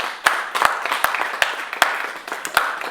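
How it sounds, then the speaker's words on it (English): Scattered claps from a small audience at a school alumni health talk in Akure, a handful of distinct, fairly loud hand claps spaced irregularly over a few seconds, with no talk. "Please, a round of applause for her."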